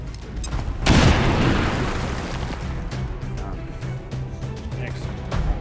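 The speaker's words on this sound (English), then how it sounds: "Throw a grenade right there." A grenade explodes in the video game XCOM 2: one loud, sudden boom that rolls off into a long, fading rumble of debris, close and filling the scene.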